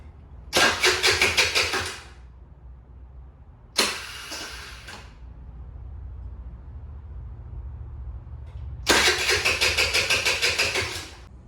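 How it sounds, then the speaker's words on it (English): A broken moped with a fuel problem is cranked on its kickstarter in three separate rhythmic chugging bursts that fail to catch, each close and loud, separated by low background hum. "cranking it with the Kickstarter still didn't start it up"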